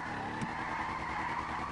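Car tires skidding while drifting in GTA 5 Online, a sustained squeal over the engine drone, steady and close for under two seconds.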